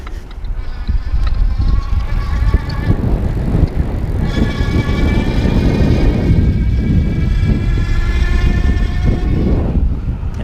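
A Juiced CrossCurrent S electric bike rides under throttle power with a whining motor and rattling, rumbling road and wind noise, close and continuous throughout.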